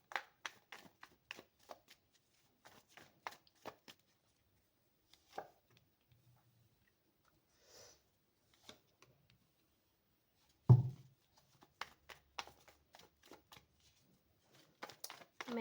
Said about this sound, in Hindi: मैं सारे कार्ड्स निकाल लेती हूँ